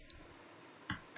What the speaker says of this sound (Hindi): Alt 4 प्रेस कर दूं,